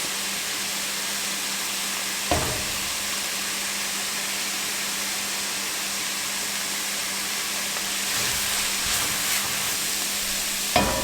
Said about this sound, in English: Go ahead and add in your chipotle peppers.